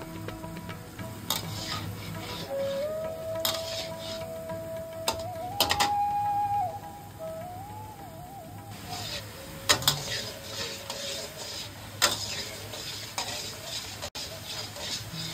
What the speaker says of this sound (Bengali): ক্রমাগত নেড়ে যেতে হবে, কালচে করে ভাজতে